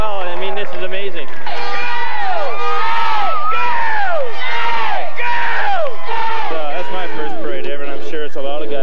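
A large crowd cheers and shouts at a downtown parade for the Columbus Cottonmouths hockey team, a dense continuous roar of voices with overlapping whoops and calls, loud and close throughout.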